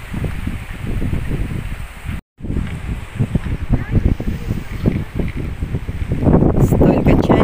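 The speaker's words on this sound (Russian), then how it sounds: "Такой ветер, друзья. Такой ветер, море так волнуется." Steady wind roars and buffets against the microphone, with surf-like rushing of a rough sea underneath; loud and close throughout, no speech heard.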